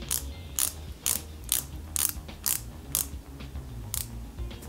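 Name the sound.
screw being fastened into model car starter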